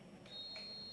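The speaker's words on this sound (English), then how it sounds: "let's do a quick buzzer check" A quiz team buzzer sounds at a national business quiz event, a single faint steady electronic tone that starts partway in and holds, heard alone over room noise.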